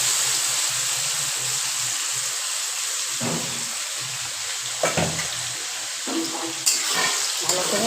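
Batter poured into hot oil fries with a loud, continuous crackling hiss, with a few sharper bursts and scrapes near the end.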